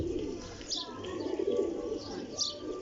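Pigeons coo in low, rolling bursts close by, with a few faint chirps and quiet background voices.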